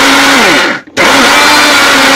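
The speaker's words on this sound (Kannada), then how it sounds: "ಮಿಕ್ಸಿಯಲ್ಲಿ ಚೆನ್ನಾಗಿ ಪುಡಿ ಮಾಡಿದಳು." An electric mixer grinder pulverizing roasted spice masala for gooseberry pickle runs loud and steady, whining at a constant pitch, briefly cutting out and then restarting.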